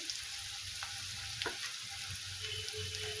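Garlic frying in oil in a pan while a potato dish cooks, a steady soft sizzle with a few light stirring clicks, fairly quiet and with no talking.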